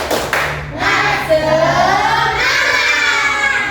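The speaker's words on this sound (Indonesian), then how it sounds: "kalau kata Ibu, tepuk semangat" A group in a classroom with a teacher claps a rhythmic spirit clap, a quick burst of claps at the start followed by voices shouting and chanting together.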